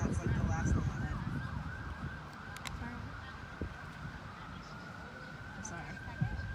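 An emergency siren wails steadily in the distance behind downtown street noise and traffic rumble in Schenectady, holding a sustained tone without fading much over several seconds.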